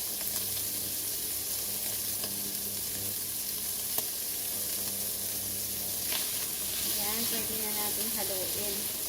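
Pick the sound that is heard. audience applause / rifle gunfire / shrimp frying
shrimp frying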